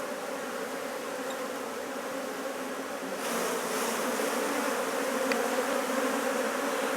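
Dense honeybee buzzing around a hive frame with a newly introduced queen, a steady close drone that grows slightly louder partway through and continues unbroken.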